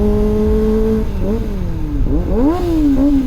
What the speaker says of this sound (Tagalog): anong motor na nga ito TFX 150